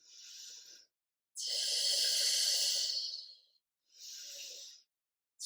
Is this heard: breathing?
yes